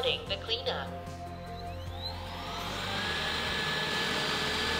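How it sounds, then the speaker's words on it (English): A robot vacuum cleaner in a smart home starts up with a rising whine that settles into a steady, fairly loud motor hum. Brief talk or noise at the start gives way to the continuous machine sound. "the robot vacuum will start up when I'm gone"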